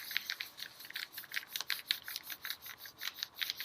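Paper laid over a textured collagraph plate is rubbed by hand in a quick, even back-and-forth rhythm, giving a close, soft scratchy swish about four strokes a second.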